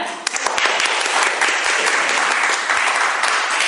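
Workshop participants at a seniors' session in Tarnów break into sustained applause, a dense, steady patter of many hands clapping at close range for several seconds.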